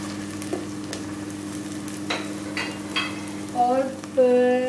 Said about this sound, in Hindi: अब इसके अंदर जो है मैं अदरक लहसुन का पेस्ट शामिल कर रही हूँ